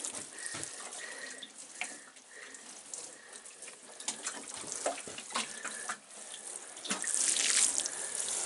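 Water pours from a watering can onto chard in a greenhouse, a close, continuous splashing trickle that varies in strength and builds toward the end, with no talk.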